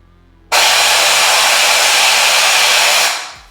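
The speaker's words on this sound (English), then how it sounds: "I put the compressed air in the bottom and blow" Compressed air blows into the bottom of a funnel holding a ball: a sudden loud, steady hiss starts abruptly, holds for about two and a half seconds, then tapers off.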